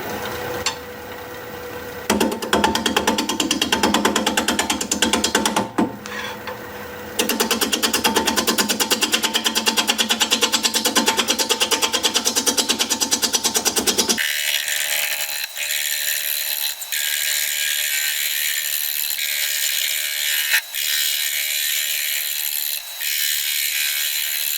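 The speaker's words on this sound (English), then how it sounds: "We'll get this mounted up and turn this spalted poplar into something pretty, I hope." Spalted poplar bowl spinning on a wood lathe at 550 RPM while a 5/8-inch bowl gouge cuts, a loud continuous grinding, ratcheting rasp that shifts abruptly to a thinner, brighter whine partway through.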